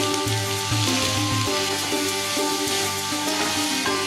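Capsicum, tamarind and coconut sauté in a pan for a chutney, giving a steady close sizzle with scraping and stirring strokes throughout.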